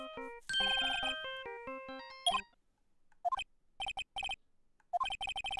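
In Phoenix Wright: Ace Attorney, a phone plays the Steel Samurai theme as an electronic melody ringtone. A run of short, clipped beeps from button presses follows it.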